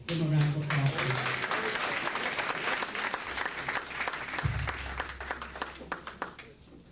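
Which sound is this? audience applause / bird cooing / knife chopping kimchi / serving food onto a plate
audience applause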